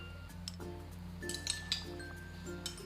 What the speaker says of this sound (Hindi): ये देखिए यहाँ पे मैं गिलासों में आइस ऐड कर दूँगी